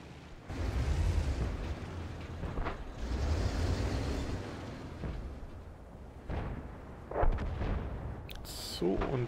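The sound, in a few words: Jagdpanther tank gun firing in World of Tanks video game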